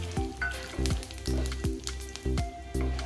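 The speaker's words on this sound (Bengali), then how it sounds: "মশলাটা একটু ভেজে নেব।" Whole garam masala spices fry in hot mustard oil in a pan, giving a steady close sizzle with repeated low thumps and crackles about every half second, with no voices.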